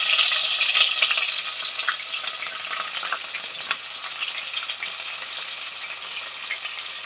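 Onions sizzle and fry steadily in a hot pan for Nellore fish curry, a bright crackling hiss that fades slightly as they are stirred, close and continuous with no talking.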